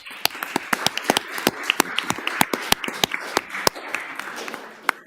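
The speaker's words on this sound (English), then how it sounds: "Let's give her another round of applause." Audience at a school committee meeting clapping, a sparse round of distinct hand claps at close range with no talk over it.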